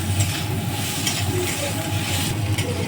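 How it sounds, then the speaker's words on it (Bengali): A jackfruit seed and shrimp mixture fries in a pan over lowered gas, giving a steady close sizzle with a continuous low hum underneath and no talking. "এবার এইভাবে গ্যাস কমিয়ে কমিয়ে ভাজতে হবে।"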